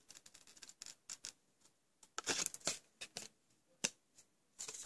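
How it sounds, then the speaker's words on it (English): Long scissors snip through card in a series of sharp, close cuts, some single and some in quick clusters, with quiet pauses between and no talk. "Nice long scissors really do help when you're doing this part."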